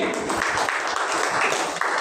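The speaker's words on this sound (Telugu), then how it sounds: "గట్టిగా దేవునికి స్తోత్రాలు చెల్లించండి. చప్పట్లు కొడదామండి." Congregation clapping together during Sunday worship at Alpha Omega church in Kummarigudem, a dense steady patter of many hands that holds level throughout with a voice faintly underneath.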